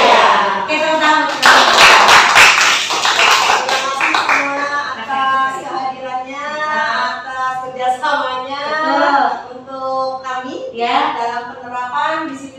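A school audience breaks into a burst of loud, dense hand clapping that fades within a few seconds, followed by someone speaking into a microphone in an echoing hall.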